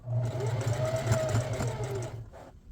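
A sewing machine stitches a nameplate onto black Adidas jersey fabric, a rapid steady mechanical chatter running for about two seconds before stopping, close and clear.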